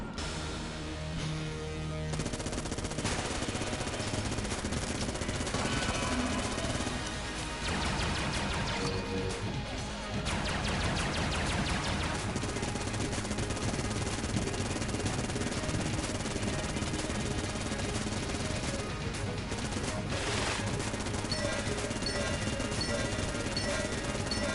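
Rapid, relentless Vulcan cannon fire in Enter the Gungeon, a dense stream of mechanical gunshots that runs almost continuously, broken only by a couple of short pauses, with impacts and crashes mixed into the barrage.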